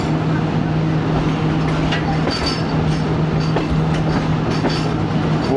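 Pakistani passenger train 39 pulling in behind locomotive 6429 ZCU20 on the Sialkot–Wazirabad line, a loud continuous rumble of wheels and clattering cars with brief squeals and a steady engine drone close by.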